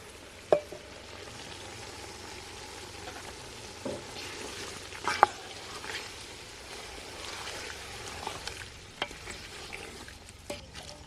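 Spices such as coriander-cumin powder, turmeric and salt fry in oil in a pot for Kathiyawadi undhiyu, a soft steady sizzle broken by occasional stirring scrapes and clinks.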